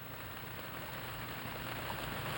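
Steady rain hisses evenly across an outdoor Christmas parade with horses and riders passing, a constant wash of drops with no voices.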